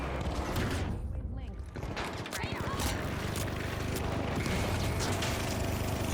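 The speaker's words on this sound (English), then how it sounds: "It's not easy when a heavy with a minigun has a pocket stage right behind him." Minigun fire from a heavy in a video game lobby full of miniguns: continuous dense rattling gunfire with whirring mechanical spin, loud and sustained for several seconds, with a brief dip partway through and talking underneath.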